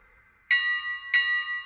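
A model train engine's bell triggered from an NCE controller with a power card: two bright electronic bell strikes about half a second apart, each ringing on briefly, close and clear.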